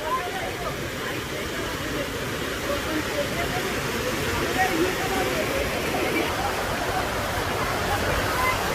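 Water pours down steadily at the Teliya lake waterfall, a dense continuous rushing roar close by with no breaks, while someone talks over it.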